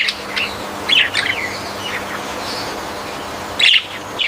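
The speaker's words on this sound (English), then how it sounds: "A bright green parrot arrives, looking for something tasty." A bright green parrot calls in a sandy desert with short, sharp squawks and chirps. Separate calls come a few times, with a loud, close burst at the start and another near the end over faint background hiss.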